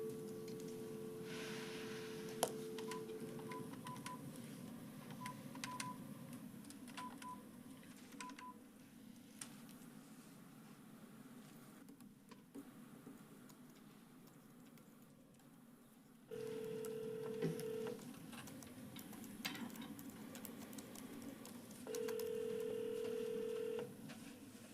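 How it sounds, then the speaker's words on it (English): Touch-tone keypad beeps from a phone number being dialed during a school board meeting call: several short, evenly spaced tones, faint beneath a steady low room hum. "I'm gonna try one more phone number here we don't have a name for"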